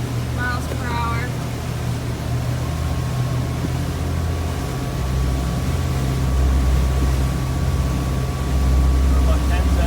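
A motorboat engine running at about 2,000 RPM and roughly 9 miles per hour gives a loud, steady low drone with a thin sustained whine above it. It continues unbroken, with water rush underneath.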